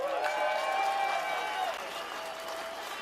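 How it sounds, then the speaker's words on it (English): Outdoor crowd applause at a British farmers' protest against inheritance tax in central London, steady clapping with a sustained tonal hum running underneath, easing slightly in level after the midpoint. "another big round of applause for Sally Field."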